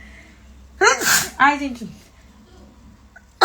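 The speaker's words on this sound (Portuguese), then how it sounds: "Alergia. Espirro." An allergy sneeze comes in two close bursts, a gasping intake and then a sharp explosive release, followed by a brief spoken exclamation in an otherwise quiet room.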